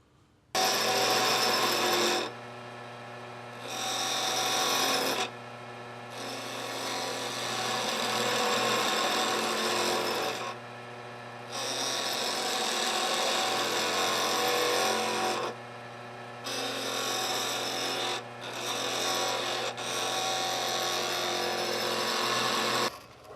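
Wood lathe turning a tenon and tapering a wooden baby rattle: a loud steady whirring drone with tool-on-wood scraping, broken by several short pauses where the cutting stops, heard alone without talk.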